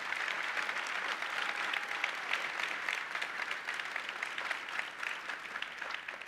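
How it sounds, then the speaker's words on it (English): Sustained applause from a large keynote audience at Atlassian Summit U.S. 2017, many hands clapping evenly throughout, fairly distant and soft in level, with no voices over it. "a big round of applause for the discussion"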